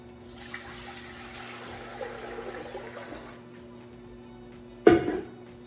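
Water pours into a cooking pot as a homemade pastrami brine is started with 4 quarts of water, a steady close rushing flow for about three seconds, then quiet, ending with a sharp clunk.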